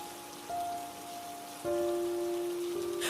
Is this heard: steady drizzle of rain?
yes